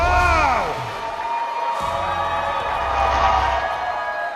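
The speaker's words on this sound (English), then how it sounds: "Wow, what a fun crowd." A large CPAC conference crowd cheers and whoops loudly in a big hall, with sustained roaring, rising shouts and whistles, and a brief lull before the noise swells again.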